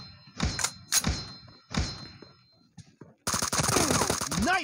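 Gunfire in the PUBG video game: a few heavy, separate single shots, then a dense, rapid burst of automatic fire that carries on loudly to the end.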